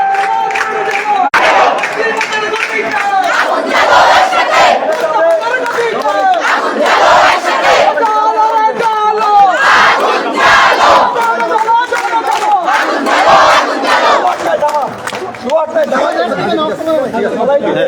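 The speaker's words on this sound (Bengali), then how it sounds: "এখানকার শিক্ষার্থীরা এবং ইন্টার চিকিৎসকরা কিন্তু বিভিন্ন ধরনের স্লোগান দিচ্ছেন" Medical students and intern doctors at Sylhet Osmani Medical College Hospital chant protest slogans as a loud, dense crowd. Rhythmic shouted calls rise and fall without pause for the whole stretch.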